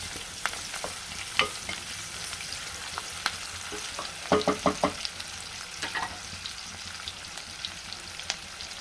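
Onions sauté in a pan for an onion-potato kurma, giving a steady soft sizzle broken by sharp clicks and scrapes of a stirring spoon, clustered near the middle, with no talking.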